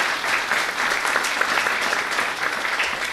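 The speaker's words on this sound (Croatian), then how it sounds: "zaslužuje aplauz" An audience at a poetry book launch breaks into sustained applause, dense even clapping from many hands filling the room at a steady level throughout.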